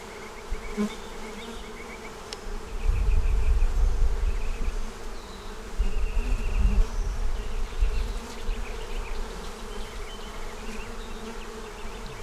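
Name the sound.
honey bees buzzing in a honey bound hive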